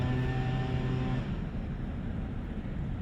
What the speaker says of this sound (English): And there's traffic.